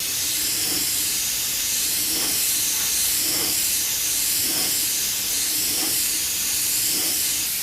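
An airbrush sprays a third coat of white paint onto a motorcycle fairing during a track bike repaint, a continuous airy hiss that swells and eases in soft pulses, close and steady, with no talking.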